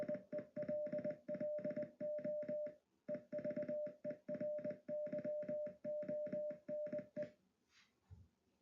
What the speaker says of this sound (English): So that means hello everyone in Morse code